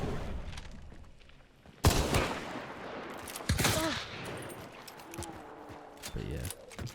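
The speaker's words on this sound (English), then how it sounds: "Just try shooting in the air." Gunfire in the video game Hunt: Showdown, shots fired into the air: two loud, sharp blasts a couple of seconds apart with reverberant tails, followed by fainter clattering and softer in-game noises.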